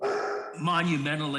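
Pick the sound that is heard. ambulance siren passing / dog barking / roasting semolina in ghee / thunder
dog barking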